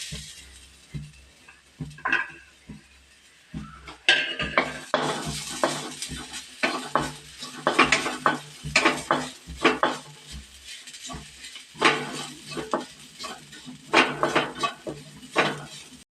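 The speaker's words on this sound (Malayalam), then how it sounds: "അപ്പോഴത്തേക്കും ഞാൻ ഇതിന് വേണ്ടുന്ന തേങ്ങ ഇങ്ങ് വറുത്തെടുക്കട്ടെ." Coconut being dry-roasted in a pan for a jackfruit seed masala curry, with repeated scraping and stirring clinks of a utensil against metal, close and steady, getting busier partway through.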